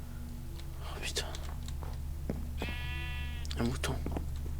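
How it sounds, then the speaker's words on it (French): A sheep bleats once, clearly and fairly close, in the video game Minecraft, among clicks, footsteps and quiet whispering voices over a steady low hum. "Un mouton."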